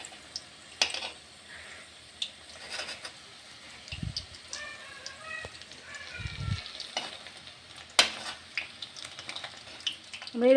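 Egg French fries frying in oil over a low-to-medium flame give a soft, steady sizzle. Scattered clinks and scrapes of stirring cut in, along with a couple of low thumps, and no one speaks.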